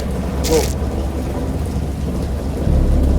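Steady rain falls under a sharp thunderclap early on, and a deep rumble swells near the end, a full thunderstorm sound effect with no speech over it.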